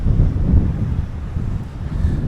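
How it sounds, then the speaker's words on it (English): Strong wind buffets the microphone on the open top deck of the MSC Divina cruise ship, a loud, continuous low rumble with gusty swells and no voices. "It's pretty windy right now"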